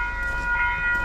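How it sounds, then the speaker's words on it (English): A train rolls past nearby with a sustained tonal horn or brake whine over a heavy low rumble, loud and continuous for the whole moment. "we're gonna get some train action."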